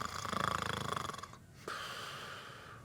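A voice imitates snoring with a rapid rattling inhale, a brief pause, then a long airy exhale, close and fairly quiet.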